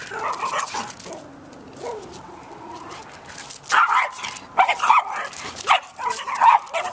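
Aggressive Border Collie barking in sharp, repeated bursts that grow louder and more frequent toward the end, with brief whimpering earlier and people talking faintly nearby.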